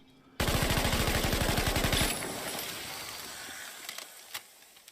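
A German MG34 or MG42 machine gun fires one rapid continuous burst of densely packed shots for under two seconds, followed by a fading echo and a few faint distant reports.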